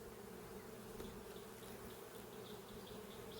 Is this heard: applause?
no